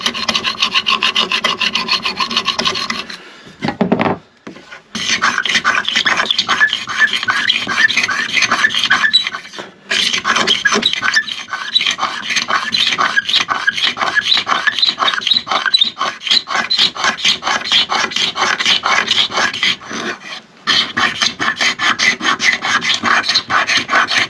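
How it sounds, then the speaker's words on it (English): Hand scraper rasping finish off a wooden surface in steady rapid back-and-forth strokes, close and loud, with a few brief pauses between runs. "Scraping only."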